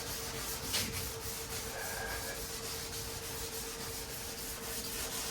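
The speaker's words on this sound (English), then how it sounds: "it's going to take longer with 320, of course, but can't sand it with anything less because the base coat won't bridge it" Steady, continuous rasping of 320-grit sandpaper worked over base coat on the body of a 32 Coupe, a close, even scrubbing with no pauses and no talk.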